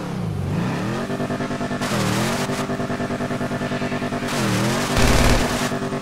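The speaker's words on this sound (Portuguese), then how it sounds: "é dotado de um motor V8, galera, e possui uma grande tomada de ar para carburador" A V8 engine in the Imponte Phoenix from GTA V, a car with a large carburetor air intake, revs hard. It rises and falls in repeated swells over a steady, loud, throaty idle, with no talk.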